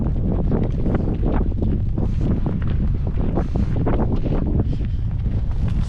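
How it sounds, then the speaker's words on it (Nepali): Strong, cold wind buffets the microphone on Sailung hilltop in Nepal in constant loud gusts, a rough continuous roar with no other sounds. "एकदम चिसो हावा चलिरहेछ।"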